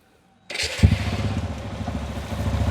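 An RTR motorcycle with a lit check-engine fault light starts after a brief silence, then settles into a loud, steady, close idle with a rough, throbbing low rumble.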